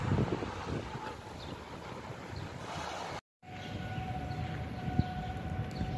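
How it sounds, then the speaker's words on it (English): Tornado sirens wailing during a tornado warning, a steady distant tone heard faintly under wind noise and outdoor rumble, with a brief dropout partway through. "So, tornado sirens have started to go off again."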